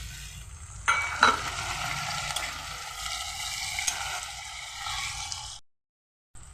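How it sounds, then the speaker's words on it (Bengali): Tomatoes hit a hot pan of chicken curry with papaya and potato, setting off a loud, steady sizzle with some stirring scrapes that runs for several seconds and then cuts off abruptly. "এখন আমি টমেটোটা দিয়ে দিচ্ছি টমেটোটা দিয়ে দিচ্ছি"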